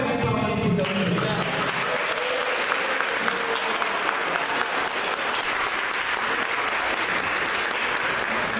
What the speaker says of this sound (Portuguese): Uma salva de palmas para o Dom Júlio.